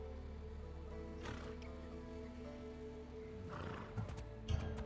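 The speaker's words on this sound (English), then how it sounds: "I heard the neigh of a fierce horse." Horse neighing in the video game Assassin's Creed Odyssey, a fierce whinny rising over a steady low game ambience, with a faint clip-clop of hooves and brief louder bursts near the end.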